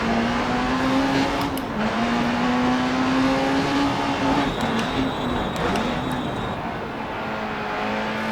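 Engine of a rally car in the racing game DiRT Rally, a steady loud drone with rising and falling revs through gear changes, continuous throughout and without talk.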